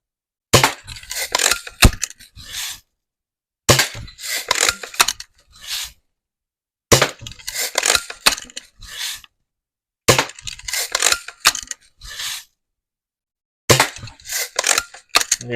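A Daisy Red Ryder BB gun fires repeatedly at a can, bursts of sharp metallic impacts and rattles arriving in five separate rapid groups, close and loud, with silence between them.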